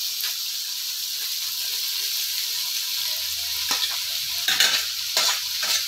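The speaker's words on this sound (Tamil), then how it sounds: "இப்போ காயெல்லாம் நல்லா ஃப்ரை ஆகிடுச்சு. இப்போ பார்த்தீங்கன்னா நூடுல்ஸ் நம்ம ஆட் பண்ணிடலாம்." Vegetables stir-frying in a pan for egg noodles give a loud, steady hiss of sizzling oil, broken near the end by a few scraping stirs of the spatula.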